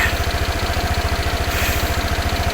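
A motorcycle engine, a bike that has been in several accidents, idles with a steady low rhythmic putter close by, loud and continuous without voices.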